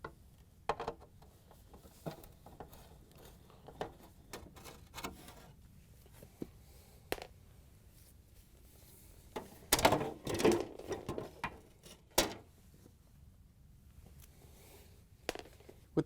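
Screws being removed from a GE refrigerator dispenser auger bucket, heard as sparse close clicks, small metallic taps and rattles, with a busier cluster of scraping and clattering handling noise near the middle.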